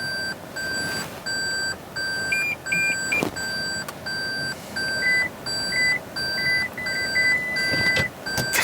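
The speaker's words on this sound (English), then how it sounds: "Needs more beeping." Repeated electronic beeps from a 2017 Toyota Prius parking sensor in steady short bursts, clear and close, with a second higher-pitched beep pattern joining partway through over a low background hum.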